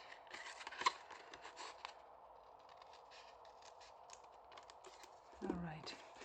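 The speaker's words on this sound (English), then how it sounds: "So just cut in between these lines. So we're cutting this out." Scissors snip through paper in quiet, scattered cuts with soft scraping, close by but faint, as a voice talks at low level through the clip.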